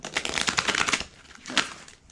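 Oracle cards are shuffled by hand, a rapid papery riffle followed by a shorter second burst of card flicks, close and fairly loud.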